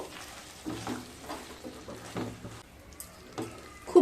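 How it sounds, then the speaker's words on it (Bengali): Fried eggs stirred into a pan of butter and garlic, a spatula scraping and tossing in several soft bursts over a light, steady sizzle, with no talking. "এবার ভেজে রাখা ডিমগুলোকে দিয়ে দেব ডিমগুলো দিয়ে খুব ভালোভাবে মিশিয়ে নেবো"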